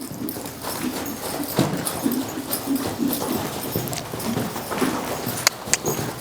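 A horse moves freely around an arena through direction changes, its hooves clip-clopping in an uneven, moderately close rhythm on soft ground, with a few sharp knocks near the end and no talking.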